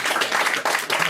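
Audience applause at a comedy show, a steady dense wash of clapping from a crowd, loud and close, with a brief dip near the middle before it swells again.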